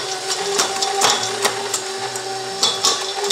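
Stand mixer with a paddle beating stuffing mix with egg and shredded cheese, a steady motor hum with irregular thumps and clatter from the paddle working the dense mixture, moderately loud and close.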